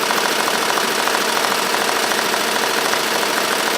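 An embroidery machine stitches a small appliqué design onto a tote bag at about 800 RPM, producing a fast, continuous mechanical chatter at steady volume with no voices.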